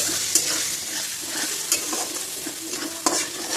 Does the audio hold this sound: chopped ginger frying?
yes